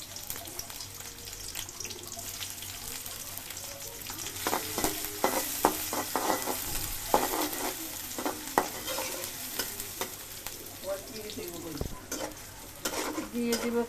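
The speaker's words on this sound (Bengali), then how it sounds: "দিয়ে দেব সয়াবিন তেল, দিয়ে দেব কেটে রাখা পেঁয়াজ" Chopped onions frying in soybean oil give a steady, close sizzle, with repeated scrapes and clicks of a spoon stirring the pan throughout.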